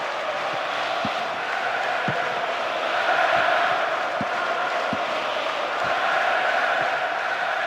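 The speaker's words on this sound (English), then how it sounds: "the crowd is adding to this as a spectacle. Noise they're making is terrific" A dense football stadium crowd in the video game PES 2009 roars steadily, swelling and chanting in waves, with faint rhythmic thumps underneath and no clear talking.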